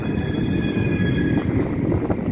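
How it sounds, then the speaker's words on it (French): A Porto tram rolls past with a steady, loud rumble of wheels on rails and a faint high squeal running throughout, close and continuous with no talk. "Ça, c'est le deuxième tramway qui passe."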